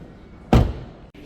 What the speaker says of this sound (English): let's shut the door and we'll go to the driver's side next